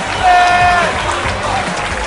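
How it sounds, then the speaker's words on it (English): Crowd applause fills an MMA fight arena, a dense, loud wash of clapping and cheering lasting a couple of seconds with a brief voice riding over it. "a big round of applause to your runner-up, Tommy Kelly!"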